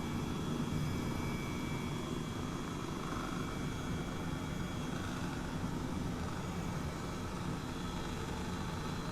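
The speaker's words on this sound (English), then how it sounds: "This is a really awesome helicopter." Continuous whirring rotor and turbine drone of an Airbus helicopter engine in Microsoft Flight Simulator, steady and unbroken, with a high whine running through it.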